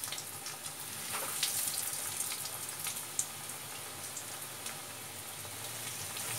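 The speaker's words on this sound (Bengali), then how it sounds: "কড়ার তেল মোটামুটি গরম হয়ে গেছে, সাদা তেলে আমি এটা ভাজছি।" Bhetki fish cutlets frying in hot white oil in a kadai, a steady, even crackle and hiss running throughout with a few sharper pops, no talking.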